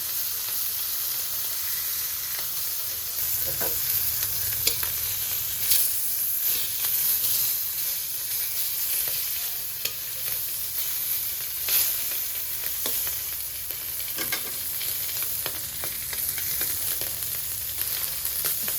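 Hilsa fish lightly frying in pre-heated hot oil for a spinach curry, a steady close sizzle with occasional louder pops and crackles running throughout, no talking.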